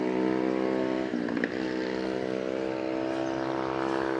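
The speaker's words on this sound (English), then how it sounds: "See, illegal mopeds." Unplated mopeds on a New York City street, engines buzzing steadily nearby as one passes with a brief surge midway, continuous motor drone with traffic ambience and no talk.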